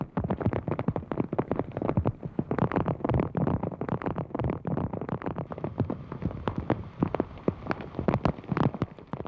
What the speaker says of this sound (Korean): 하지만 빗소리 외엔 아무 소리도 들리지 않았다.